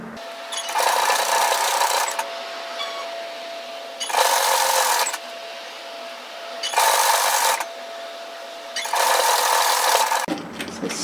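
A domestic sewing machine top-stitches the collar of a knit teddy jacket in four steady bursts of a second or so each, separated by quiet pauses, close and clear with no talking.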